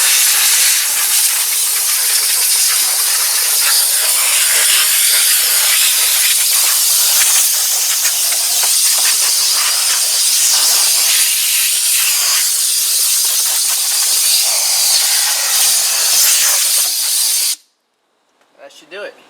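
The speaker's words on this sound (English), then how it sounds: "It's hooked up to the air compressor inside the garage" Compressed air from a garage air compressor blasts steadily through a car engine bay, a loud, continuous, broadband hiss for about seventeen seconds before cutting off abruptly, followed by faint rustling.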